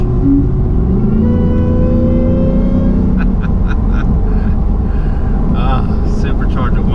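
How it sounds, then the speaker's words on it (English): A supercharged 750 hp 2017 Shelby F150 pickup, parked in the rain, gives a rising supercharger whine over a deep engine rumble, close and loud, before settling into a rougher idle with a few sharp clicks. "Supercharger whine is the best."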